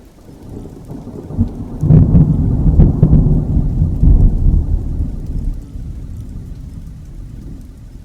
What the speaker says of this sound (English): I want a rain sound with thunder that I could layer under a cozy scene or a moody transition.